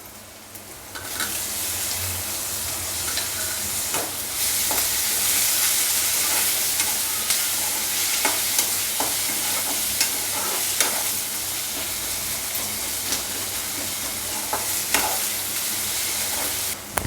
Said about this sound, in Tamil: பாருங்கள், தக்காளி வெங்காயம் நல்லா வதங்கிடுச்சு.